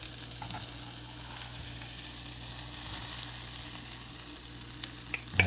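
Mushrooms and onions fry steadily in a pan for a fried Salisbury steak dish, a constant close sizzle with light crackles and a few scraping stirs near the end, no talking.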